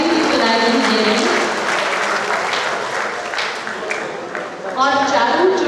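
Audience at an award ceremony applauding steadily for several seconds, a loud dense clatter of clapping that stays fairly even throughout.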